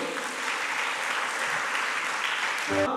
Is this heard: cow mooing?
no